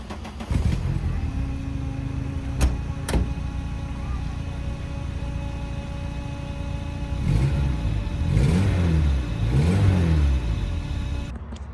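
A Mk1 Rabbit pickup truck's engine runs with its muffler still fitted, a fairly quiet steady idle that swells into a couple of revs near the end.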